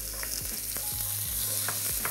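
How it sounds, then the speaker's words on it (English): Onion and garlic sizzle in hot oil in a pan, a steady close frying hiss with a few soft stirring scrapes and knocks. "Salt always helps when you are sauteing onions"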